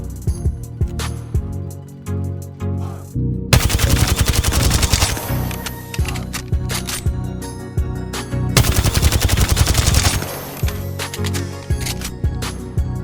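Volt SMG fire in Apex Legends comes in rapid, loud bursts of automatic shots, with several sustained strings of fire separated by brief pauses and the sharp clicks of a weapon being handled.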